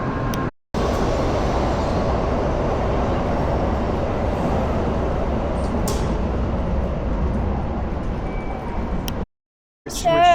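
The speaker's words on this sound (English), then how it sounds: "I hope we get some footage of the train coming in" A heavy, continuous low rumble of a train rolling into a station in Kyoto, steady and loud, with brief squeals and a couple of abrupt cuts near the start and end.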